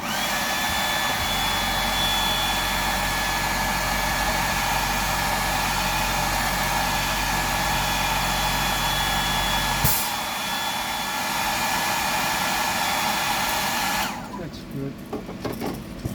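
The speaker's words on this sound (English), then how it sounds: "I might just dry that off a bit with the hairdryer." A hair dryer blows with a steady, loud whirring roar, then cuts off near the end.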